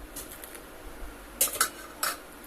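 Spoon stirring fenugreek-cumin powder into onion kulambu in a pot, three sharp metallic clinks and scrapes in the second half over a low simmer, close and without talk.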